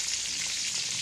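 Fish frying in a pan with oil gives a steady, close, unbroken sizzle. No one speaks over the crackle, and it holds at an even level throughout.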